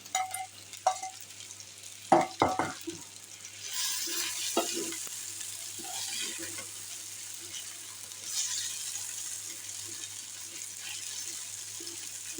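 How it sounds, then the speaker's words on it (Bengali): Fried king prawns tipped into a thick masala and stirred in a pan, starting with a few knocks and clatters, then a steady sizzling fry with spoon scrapes, close and moderately loud. "এবার আমি দিয়ে দিব আমার ভেজে রাখা"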